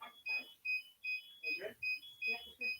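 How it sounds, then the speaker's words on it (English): Toyota Wigo car warning alarm for headlights left on: a loud, insistent beeping chime repeating about twice a second, each short high electronic tone pulsing in a steady rhythm, with faint background noise and muffled voices underneath. "making some sort of alarm sound to tell you you've left your lights on is a pretty normal car thing to do, but the Wigo sound is especially annoying"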